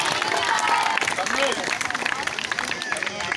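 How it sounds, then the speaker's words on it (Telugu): Audience at a college event clapping loudly and steadily throughout, a dense crowd applause with babble of voices mixed in. "మీరు అందరూ కూడా గట్టిగా చప్పట్లు కొట్టాలి హృదయపూర్వకంగా"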